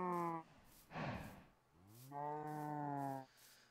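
Cows mooing in Minecraft with the Tekkit modpack: two long, clear, close moos separated by a breathy snort-like burst, with no talk over them.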